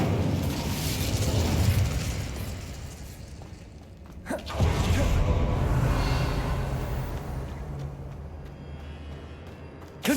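Incendio fire spell cast in the PC game Hogwarts Legacy: a dense, roaring burst of flame and magic with a sharp whooshing crack midway, loud and continuous throughout.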